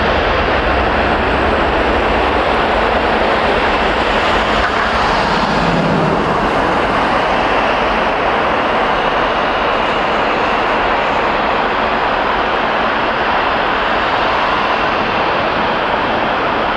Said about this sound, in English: This is Air Canada 745 to San Francisco on a MAX 8